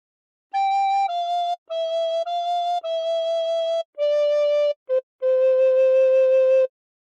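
A recorder plays "God Defend New Zealand" in clear, pure piped notes, each held briefly with short gaps between, played alone and fairly loud.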